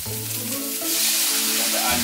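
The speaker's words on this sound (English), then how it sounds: "Make sure you get your oil nice and hot. Then we're going to drop my garlic, ginger," Garlic, ginger and peppers hit hot oil and burst into a loud, steady sizzle that swells and stays strong, with faint stirring over a low background hum.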